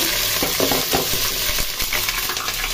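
Onions fry in hot oil in a saucepan for pulao, a constant close sizzle broken by repeated scraping stirs of a utensil, with no talking.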